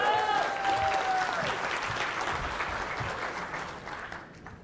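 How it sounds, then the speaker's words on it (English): An audience breaks into a round of applause, dense clapping that starts loud, then thins and fades out over a few seconds, with a faint tonal whistle or squeal near the start. "Let's give him a round of applause."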